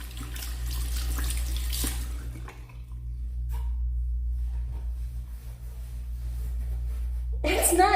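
Water runs from a sink tap as hands are washed, a steady close splash over a low household hum. It stops briefly midway, and a voice speaks near the end.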